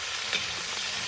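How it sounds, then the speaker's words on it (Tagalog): Shrimp going into a pan of frying garlic, giving a close, steady sizzle with faint stirring over about a second. "Ilagay natin ang kamaron."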